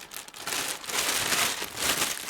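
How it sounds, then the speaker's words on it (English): A plastic bag crinkles and rustles steadily as a hand pushes into it, a close, continuous crackling texture for a couple of seconds with no talk. "I'm going to take a plastic bag like this, and I'm just going to put my hand in it."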